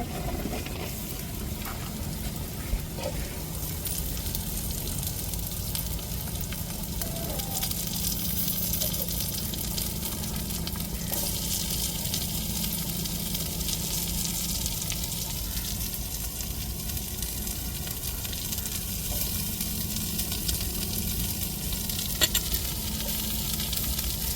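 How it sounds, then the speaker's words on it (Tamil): Shredded cabbage frying with onion in a pan for a cabbage omelette: a steady, close sizzle that runs unbroken throughout, with faint stirring scrapes now and then. "இப்போ முட்டைகோசை நம்ம சேர்த்துக்கிருவோங்க வெங்காயத்தோட"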